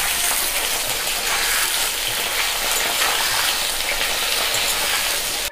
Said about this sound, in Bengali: হালকা করে একটু ভেজে নেব